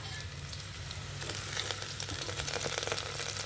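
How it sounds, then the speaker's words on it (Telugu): Onions sizzle steadily in a pan, a continuous bright frying hiss with scattered pops and crackles growing slightly busier toward the end. "ఉల్లిపాయలు బాగా వేగిపోయాయి."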